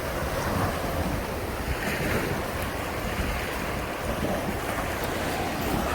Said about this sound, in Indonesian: ombaknya kalau di sini cukup kencang ya